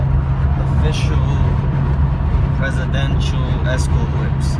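Presidential escort cars pass on a road with a loud, constant engine and tyre rumble, some brief higher whooshes cutting through near the end.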